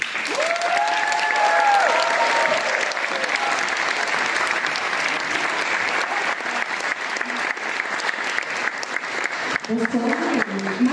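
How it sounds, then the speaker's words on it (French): Warm audience applause for Ticia Marquez, producer and director, at a private film screening in Valergues, steady dense clapping that fills the room and continues for the whole stretch, with faint voices and a brief whistle-like tone early on. "je vous demande d'applaudir chaleureusement Ticia Marquez"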